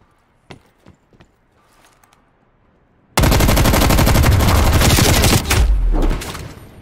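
Heavy automatic gunfire in Call of Duty: Black Ops Cold War multiplayer: a few faint clicks, then a sudden loud, dense burst of rapid shots lasting about three seconds before tapering off.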